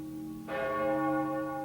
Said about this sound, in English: the tolling of the bells announced to the lamenting people that the president had ceased to breathe